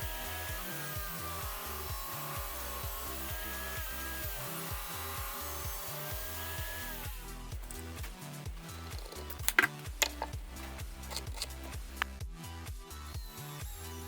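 A saw cutting around a wooden box held with spacer pieces and tape, a continuous rasping cut over a rhythmic beat in the first half, then sparser scrapes and a few sharp knocks.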